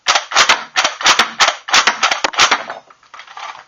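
A Nerf Elite Alpha Trooper toy blaster slam firing darts, about ten sharp loud plastic snaps in a fast uneven burst, each with a brief whoosh, tapering to softer clicks at the end.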